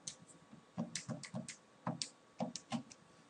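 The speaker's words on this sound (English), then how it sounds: "I'm just typing that on my calculator." Quick, light clicks of calculator buttons being pressed, a few isolated taps then a short run, close and quiet with no talking.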